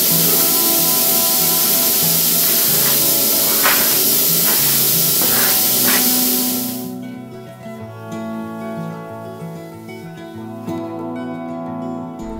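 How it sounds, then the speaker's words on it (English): Cabbage, onions and mushrooms fry in oil in a pan with a loud, dense hiss and a few crackles for about seven seconds, then the sizzle cuts off, leaving soft tonal music. "We're just gonna cook the cabbage, onions, and mushrooms so that they're nice and soft inside the nikuman."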